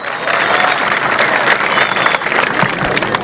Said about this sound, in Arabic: صفقوا على هاد الناس اللي قاموا بهاد المبادرة الطيبة